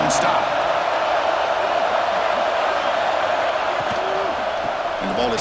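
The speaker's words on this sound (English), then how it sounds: "And here comes the noise. This crowd is trying to inspire this defense to make a big red zone stop." Video game stadium crowd noise in EA Sports College Football 26 as fans roar for a red zone defensive stop: a loud, constant wash of crowd roar throughout, with faint whistles and calls rising from it.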